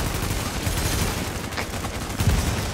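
Gunfire in the video game Tom Clancy's The Division, a dense continuous fusillade of overlapping shots with a few heavier impacts near the end.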